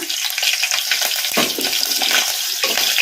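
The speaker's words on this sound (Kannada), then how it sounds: "ಹಾಗೆ ಹಾಕಿಬಿಟ್ರೆ ಎಣ್ಣೆಗೆ ಸಿಡಿದು ಬಿಡ್ತೈತಿ" Broken green chillies drop into hot oil and sputter, making a continuous loud crackling hiss with sharper pops throughout and no talking.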